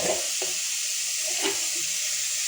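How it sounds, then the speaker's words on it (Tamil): Ingredients for a greens sambar sauté in a pan with a loud, even hiss of frying and a few soft stirring knocks near the start and middle. "அது கீரை சாம்பார் நல்லா வதங்கட்டும்."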